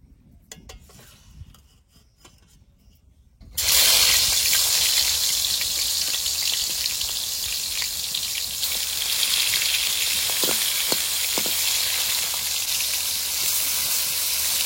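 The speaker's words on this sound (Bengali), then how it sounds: "তেল গরম হয়ে গেছে, এবার মাছ দিয়ে দেবো।" Snakehead (shol) fish pieces go into hot oil in a large wok: a few seconds of near quiet, then a sudden loud, steady sizzle that roars on without pause, with a few faint clinks late on.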